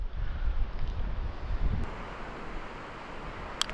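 Side wind blowing across an open fishing spot near water, a steady low rumbling buffet on the microphone that gusts harder early on and then settles into a softer continuous whoosh, with no talking.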